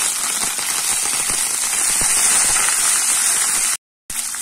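Garlic cloves and curry leaves sizzle hard in hot oil for a roadside-style kurma, a loud continuous crackle and spatter close up, cut by a brief silent gap near the end.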